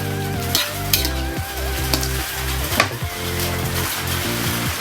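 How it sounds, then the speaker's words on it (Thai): Thai basil stir-fry with shrimp and squid, sugar added, sizzling loudly in a pan with brisk, repeated spatula scrapes and tosses, close and continuous with no talking. "เมนูผัดกะเพราใส่กุ้งผัดง่ายครับท่านผู้ชมไม่ยาก"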